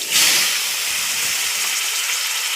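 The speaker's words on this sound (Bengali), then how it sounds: "ফোড়নটা হয়ে গিয়েছে, এবার আমি দিয়ে দেব সবজিগুলো।" Potato and green banana pieces drop into hot oil tempered with bay leaf and cumin, setting off a loud, close, hissing sizzle that surges at the start and then holds steady, with no talking.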